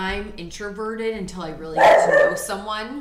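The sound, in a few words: dog barking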